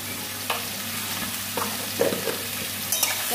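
Boiled potatoes and ginger paste fry in a pan with a soft, steady sizzle, broken by a few brief scraping stirs, close and fairly quiet.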